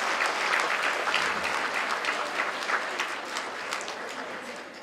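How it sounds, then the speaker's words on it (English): Sustained applause from a gala audience at a charity culinary evening, many hands clapping steadily and densely for several seconds before slowly tapering off. "A round of applause and prayers."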